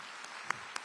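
Audience applause at an album launch concert with piano accompaniment: a steady, brief wash of many hands clapping, with a few sharper individual claps standing out.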